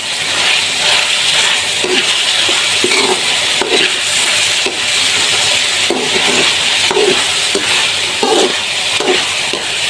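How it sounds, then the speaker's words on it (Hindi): Chicken pieces sizzle and fry in a karahi for black pepper chicken karahi while being stirred, with steady loud hiss and repeated scraping strokes of the spoon throughout, no voice. "इसी तरीके से आपने चिकन को भूनना।"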